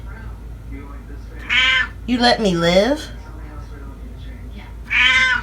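A cat lets out a few loud, drawn-out meows, one rising and falling, while a person speaks briefly between them nearby.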